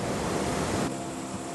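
A waterfall roars through a canyon at Laolongkou, a dense, even rush of water heard alone for a brief moment.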